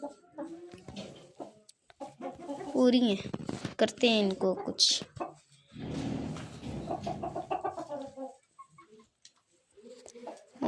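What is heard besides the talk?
chickens clucking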